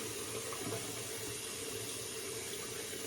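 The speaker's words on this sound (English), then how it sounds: "enjoy washing my face in the shower. I love the hot water" Hot water from a shower runs steadily while someone washes their face, a broad continuous hiss that stays fairly quiet and even throughout with no talking.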